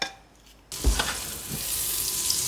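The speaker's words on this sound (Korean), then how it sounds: "양파 50g은 곱게 다지고 소금, 후추 넣어 밑간하고 볶아요." Finely minced onion seasoned with salt and pepper sautéing in a pan, quiet at first, then a sudden loud sizzle as it hits the hot surface, settling into a steady close frying hiss with a couple of stirring knocks.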